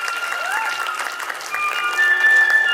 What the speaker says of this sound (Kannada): ಜೋರಾದ ಚಪ್ಪಾಳೆ ಬರಬೇಕು ಈ ಪುಟಾಣಿಗಳಿಗೆ.